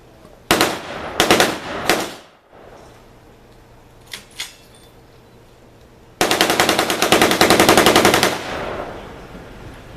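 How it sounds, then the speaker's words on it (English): Bursts of machine gun fire at a military demonstration by a machine gun team: three short loud bursts, a pair of faint distant shots, then a long sustained rapid burst of about two seconds, all close and with no talking. "Machine gun team,"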